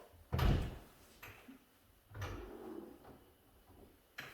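Conventional car door opened and closed in a garage, two distinct thuds with a clunk and rattle, followed by softer handling knocks and a final click, fairly quiet and close.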